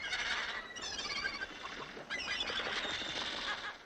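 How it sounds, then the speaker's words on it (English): A large colony of wild sea birds nesting on narrow cliff ledges, thousands of them squawking and calling at once in a dense, continuous clamour with no pauses. "Wild birds by the thousands."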